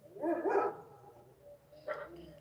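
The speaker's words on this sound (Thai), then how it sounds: "พอพูดถึงว่าตัวเองสวยหมาเริ่มเห่าทันทีเลยนะคะ" A dog barks in two bursts, a loud cluster of barks near the start and a shorter, softer bark about a second and a half later, indoors, with no talk over it.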